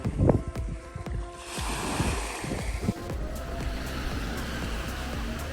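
Surf washing ashore at Brewers Bay beach on St Thomas, a steady broadband wash of waves with some wind buffeting the microphone, fairly close and continuous without talk.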